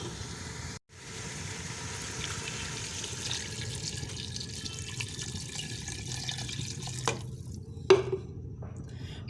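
Water poured from a glass into a pot of turnip chicken curry (shaljam chicken), a steady, soft splashing stream with a brief clink of utensils near the end, heard close in a quiet kitchen.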